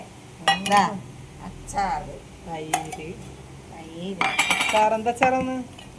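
Dishes of beef biryani being opened and served: clinking metal lids, pots and cutlery in sharp bursts close by, with people talking throughout.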